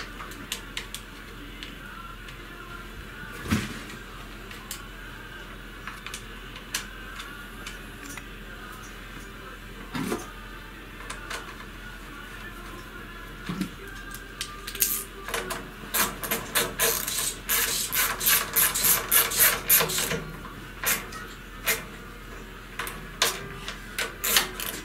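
Tightening a small clamp on a carburetor and then screwing the carburetor into place, heard as sparse close clicks and metallic taps that turn into a rapid run of scraping, ratcheting turns near the end, with no talk.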